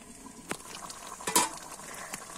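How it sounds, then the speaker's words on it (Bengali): A catla fish head is sautéed in a pan, heard as a few quiet scrapes and knocks of a utensil against the pan with a brief sizzle, close by and soft. "মাথাটা একটু ভালোভাবে কষে নিই"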